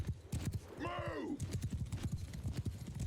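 Cavalry horses in Mount & Blade II: Bannerlord galloping in a steady, rapid clip-clop of many hooves, with a horse whinnying once partway through; someone talks over the hoofbeats.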